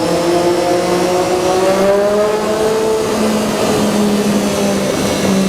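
A Triumph Daytona 675R motorcycle rides along a mountain road, its engine droning loud and near with a rising then steady tone and no voices over it.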